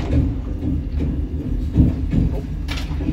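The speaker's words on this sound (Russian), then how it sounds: "Едем электричка Интерсити в Перемышль." Steady low rumble inside an Intercity electric commuter train to Przemyśl, Poland, with rattling and faint clicks over continuous rolling noise, no talking.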